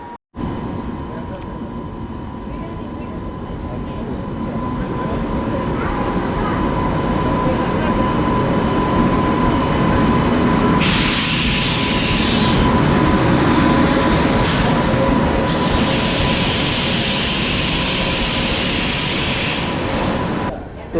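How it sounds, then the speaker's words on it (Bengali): The Saurashtra Janata Express pulls into a station platform on the Somnath to Ahmedabad line in Gujarat. A loud, steady rumble of rolling wagons runs throughout, broken by sharp hissing bursts partway through, with faint voices in the background. "এই যে ট্রেনটা ঢুকছে এটাই এই ট্রেনটাই আমাদের ট্রেন সৌরাষ্ট্র জনতা এক্সপ্রেস"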